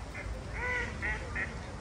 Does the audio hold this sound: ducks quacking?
yes